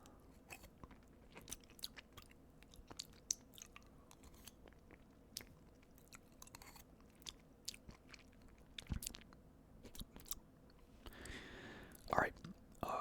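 Walmart chocolate cheesecake is eaten up close in quiet ASMR style. Soft chewing and small fork scrapes and taps come at irregular moments, with soft whispering in between.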